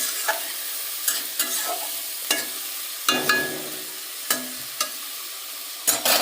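Vegetables fry in a hot wok (kadai) under a soft continuous sizzle, punctuated by about a dozen sharp scraping strokes of a spatula stirring them, close and clear with no voices.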